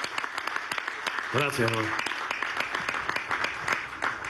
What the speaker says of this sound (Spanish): Un aplauso a la Fuerza Armada Nacional Bolivariana.